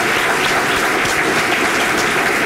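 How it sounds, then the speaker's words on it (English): Loud, close audience applause at a state health department team recognition awards ceremony, a thick continuous rush of clapping from start to finish. "I think we ought to all give everybody applause"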